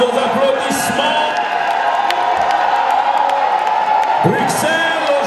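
A diaspora crowd in Brussels greeting the Congolese president, a continuous wash of applause with whoops and shouted cheers rising above it, loud and close throughout.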